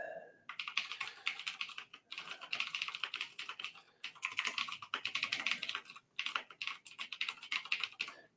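Steady bursts of typing on a computer keyboard as a field description is entered, close and clear with short pauses between runs of keystrokes and no talking.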